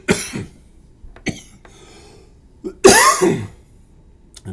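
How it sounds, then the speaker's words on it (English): A person coughs several times in short harsh bursts with pauses between, the loudest a rough, throaty fit near the end, recorded close in a quiet room. "I'm sorry about the coughing"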